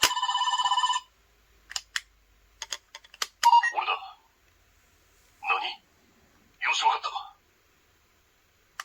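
A Dekaranger Dekamaster toy switched to phone mode gives a loud electronic ringing tone at the start, then short beeps and clicks and a few bursts of recorded toy voice, with gaps of quiet between them.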